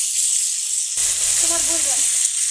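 Small puti fish frying in a pan, a steady hiss of oil sizzling continuously, close and fairly loud, with a faint voice briefly in the background.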